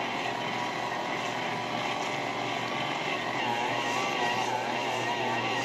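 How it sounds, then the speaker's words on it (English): Stand mixer motor kneading NY style pizza dough at low speed, a steady, loud, unbroken whirring drone with no pauses. "You hear the engine or the motor starting to make a little noise there."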